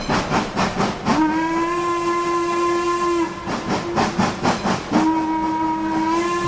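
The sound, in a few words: steam train whistle sound effect for hype train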